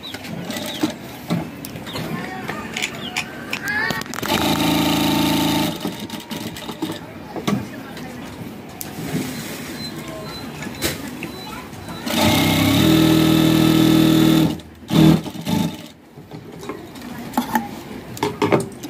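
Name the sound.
sewing machine stitching fabric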